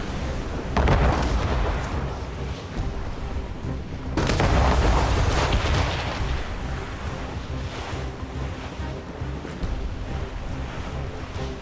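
Heavy ship cannon fire booms twice in a naval battle in Assassin's Creed Rogue, each blast followed by rumbling explosions over constant rushing ocean waves and wind.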